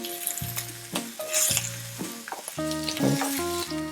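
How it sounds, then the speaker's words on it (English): Marinated steak sizzles on the grill, a close crackling fry with intermittent clicks and utensil taps, fairly quiet and without talk. "you can see the steak cooking from the bottom towards the center"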